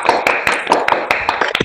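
Students in a classroom give brief rhythmic clapping, about eight close, sharp claps in steady succession.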